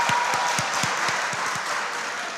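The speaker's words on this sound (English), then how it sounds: "Please clap for them." Applause for school quiz teams at a competition between basic schools, a crowd clapping steadily at moderate volume and gradually thinning out, with no speech over it.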